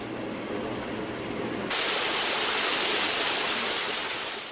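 Artificial waterfall at a hospital, a broad, continuous rushing roar of falling water that suddenly grows brighter and louder partway through, then holds steady with no voices.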